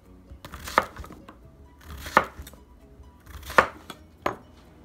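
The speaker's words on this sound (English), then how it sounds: "I'm just going to cut them all the way down to the end of the zucchini." Knife slicing zucchini into half-inch rounds on a cutting board, four distinct chops spaced about a second apart, crisp and close, with faint handling noise between.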